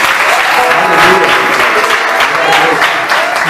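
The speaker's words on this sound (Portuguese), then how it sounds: "Aplauda ao Senhor" A church congregation claps together during a worship service, a loud, close, dense and continuous round of hands that fills the whole moment, with some voices mixed in underneath.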